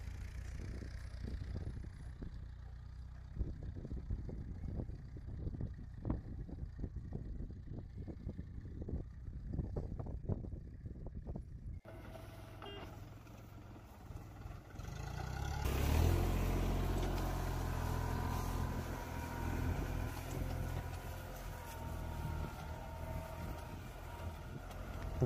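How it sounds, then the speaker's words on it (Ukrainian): A homemade-looking mini tractor engine chugs with rapid irregular knocking, then falls quiet briefly before a louder, rougher engine roar takes over. "ну це якийсь похожий міні-трактор на самодільний"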